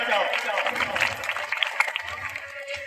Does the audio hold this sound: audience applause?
yes